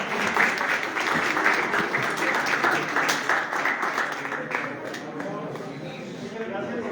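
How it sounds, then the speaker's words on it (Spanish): An audience claps for a microbiology doctor introduced at a national science week talk, a loud, steady crowd applause that thins slightly toward the end. "Un aplauso para el doctor, por favor"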